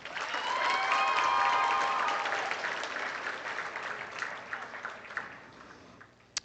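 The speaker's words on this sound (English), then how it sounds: "So for recognition, please clap for Kylie Dykstra from Maryland." Applause for an award recipient at a 4-H horse roundup awards ceremony, a broad crowd clapping that swells early, then thins into scattered individual claps before stopping, with faint voices underneath.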